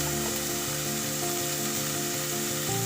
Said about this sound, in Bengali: এবার এটাকে আমি একটু ভালো করে ভেজে নেব।